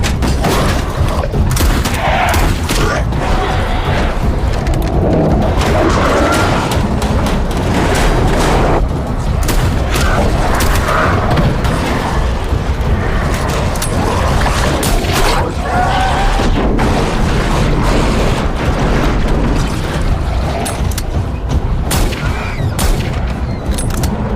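Rapid bursts of gunfire crack and boom repeatedly in a horror film scene, loud and close, with overlapping shots forming a dense, chaotic barrage throughout.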